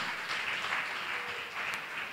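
Congregation at a Sunday church service clapping hands together, a dense steady wash of claps across the whole stretch with no talking over it.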